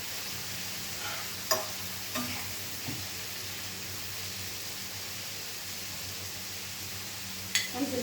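Mushrooms and peppers sizzle steadily in a hot pan, a soft continuous frying hiss with a few light clicks and stirring knocks.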